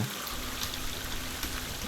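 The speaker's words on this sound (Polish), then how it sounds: "znalazłem wodospadzik mały" A small waterfall in the video game The Forest makes a steady, close, broadband rush of falling water, constant and unbroken.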